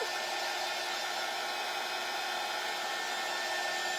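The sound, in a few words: hair dryer drying a craft kit piece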